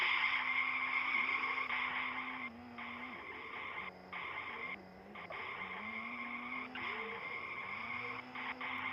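Vehicle driving in the Ice Scream video game: a steady synthetic engine hum that dips and shifts in pitch, with tire-skid squeals and game effects over it, close and moderate in level.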